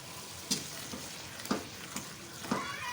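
Tomatoes and potatoes fry in a pan for a pea and potato curry, a steady soft sizzle broken by three sharp spatula scrapes and clacks about a second apart, close and fairly quiet, with no talking.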